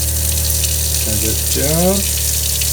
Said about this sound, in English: We have a water system that fully works right now